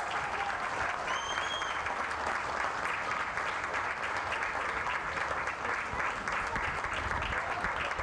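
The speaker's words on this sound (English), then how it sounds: "one more round of applause" Spectators at an American Legion Class A baseball tournament applaud for roughly eight seconds, a steady, even wash of many hands clapping with no pause and no talking over it.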